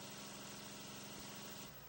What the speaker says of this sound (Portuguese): Ó, o ronco do motor.